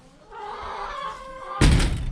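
Inside a hen house, a chicken gives a drawn-out, wavering vocal call, followed by a sudden loud thunk near the microphone.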